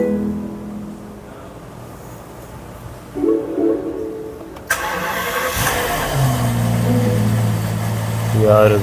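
A Rolls-Royce Ghost Series II V12 cranks and catches after a quiet lead-in, then settles into a smooth, steady idle hum nearby.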